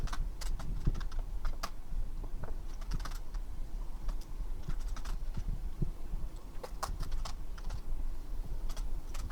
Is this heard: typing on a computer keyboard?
yes